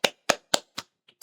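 A few sharp hand claps sound in quick succession at an even rhythm, followed by a brief pause and one soft tap before a final clap. They are close and isolated, with no talk.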